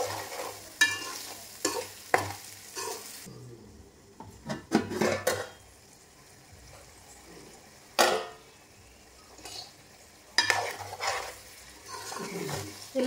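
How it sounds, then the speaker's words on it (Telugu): Bottle gourd curry with turmeric is cooked in a pan, with a spoon scraping and clinking in irregular bursts of stirring between quieter gaps of soft sizzling, close up and with no talk. "కొంచెం పసుపు. బాగా కలుపుకోవాలి. ఒక 2 నిమిషాల వరకు మగ్గనిద్దామండి."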